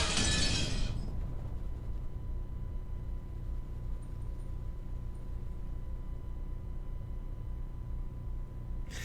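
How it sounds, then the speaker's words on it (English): A glass window shattering as a sound effect in the Umineko visual novel, a sharp crash of breaking glass in the first second, then a long, quiet, reverberant tail over low background hum. "an incredible sound, like the sound of glass window breaking, reverberated through the hall"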